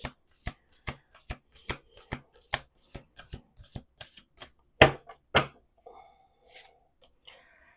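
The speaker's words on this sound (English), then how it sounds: "Last shuffle." Playing cards are riffled in a series of sharp, evenly spaced snaps, then a couple of louder flicks and quieter rustling as the deck settles.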